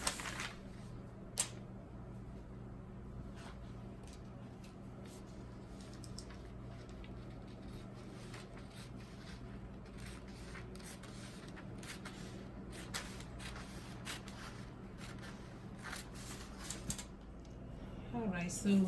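Scissors cutting out a paper bodice pattern, a quiet run of close snipping and rustling paper crinkles with a low hum underneath.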